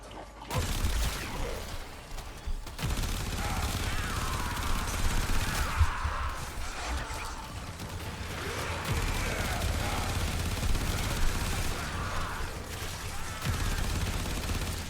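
Continuous automatic gunfire from the Acceltra rifle in Warframe, a dense rapid stream of shots with explosive bursts, loud and close, mixed with game effects throughout.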